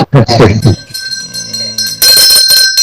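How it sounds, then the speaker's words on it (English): A bright bell rings with a sustained, shimmering tone after a short burst of speech, then rings again loudly near the end, close to the listener. "let me get my bell"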